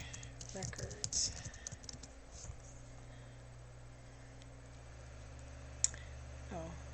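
Someone types in a quick burst on a computer keyboard, close and fairly soft, with a few clicks before the room falls quiet.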